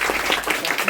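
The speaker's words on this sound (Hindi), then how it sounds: "तो जोरदार तालियां।" Loud audience applause at a Mahaparinirvan Diwas gathering honouring Dr. B. R. Ambedkar, dense, steady clapping close by.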